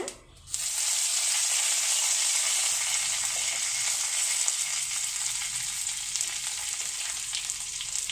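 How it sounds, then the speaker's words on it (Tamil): Mustard seeds and curry leaves frying in hot oil for a tempering, a loud steady sizzle that jumps in after a brief quiet start and holds evenly to the end, with no talking. "கடுகு பொரிஞ்சதும் கருவேப்பிலை போட்டுடுங்க"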